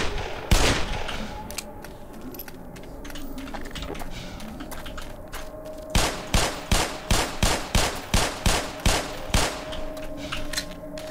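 Pistol fire in the Black Mesa game, Xen section: one sharp shot early, then a steady run of about a dozen evenly spaced, punchy shots over low ambient hum.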